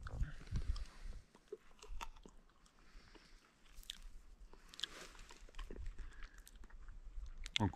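Moist crunching and chewing of a small fern with a liquorice taste, picked from moss and stones. Faint, irregular bites and mastication close to the mouth, with outdoor background noise.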